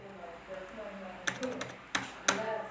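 A few sharp keystrokes tap on a computer keyboard in a short irregular burst, close and fairly quiet, during a lesson on adding graphics to a document.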